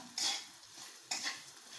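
A spoon stirs a turmeric and chilli spice mix in a pan, two brief scraping sweeps close by over a soft, faint background.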